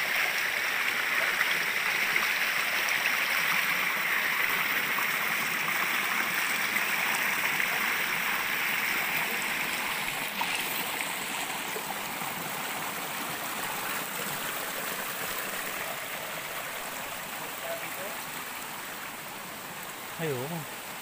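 A stream flows steadily in a high outdoor spot, a constant close rushing wash of water filling the whole stretch, gradually easing slightly toward the end.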